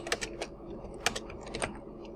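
Someone types on a computer keyboard while setting up a slow clock circuit, giving quick, irregular clusters of close, crisp key clicks over a low background hum.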